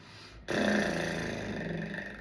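A person does a buzzing lip trill, a low fluttering rumble that starts suddenly and holds steadily, imitating a horse's snort.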